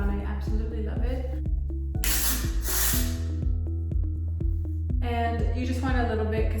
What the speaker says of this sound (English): I'm going to spray my hair with some texture spray